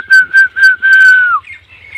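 A person whistles outdoors to call herding dogs while goats graze among acacia trees: four short, loud, high whistled calls, the last drawn out and sliding down, followed by quieter fainter tones.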